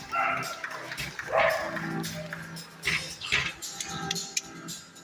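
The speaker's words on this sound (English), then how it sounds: "we're going to bring out that border collie you saw earlier in our show" A border collie barks repeatedly at an outdoor summer park show, with crowd noise and cheering filling the background.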